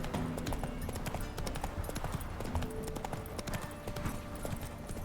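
In The Witcher video game, the horse's hooves clip-clop in a steady walking rhythm, close and continuous, with faint game sounds beneath.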